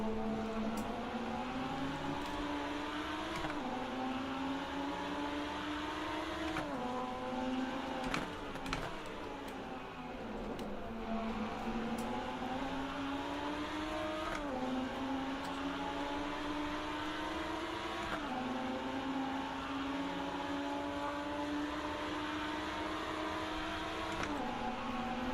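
Racing car engine in the Rennsport racing game on PS5, a steady droning whine rising and falling through repeated gear shifts and braking, continuous and fairly loud with no talk.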